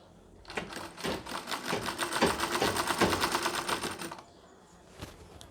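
Sewing machine stitching pleats on a nauvari (nine-yard) Shahi Mastani saree, a rapid, even, close run of needle strokes lasting about four seconds before it stops, with a brief faint tap afterward.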